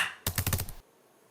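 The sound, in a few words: typewriter sound effect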